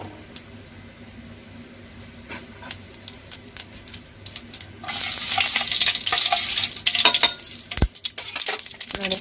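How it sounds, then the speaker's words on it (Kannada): Mustard seeds, dry chillies and curry leaves splutter in hot oil for a tempering, starting as a quiet scattering of pops and swelling midway into loud, dense crackling and sizzling with sharp close snaps. "ಸಾಸಿವೆ ಚಟಪಟ ಆದಮೇಲೆ 2 ಮೆಣಸಿನಕಾಯಿ, 3 ಒಂದು ಸ್ವಲ್ಪ ಕರಿಬೇವು ಹಾಕ್ಬಿಟ್ಟು ಇದು ಪಟಪಟ ಅಂದ"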